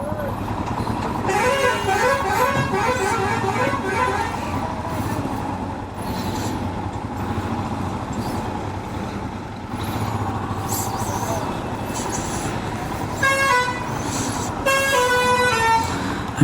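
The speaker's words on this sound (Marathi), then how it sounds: "टेरिबल ट्रॅफिक आहे" Heavy road traffic in Mumbai rumbles on in the background while car horns honk repeatedly, with bursts of toots early on and again near the end; a voice speaks over the traffic.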